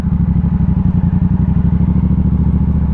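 A motorcycle engine chugs loudly and steadily at low revs as the bike rolls and turns gently at slow speed, a close, even pulsing rumble with no talking.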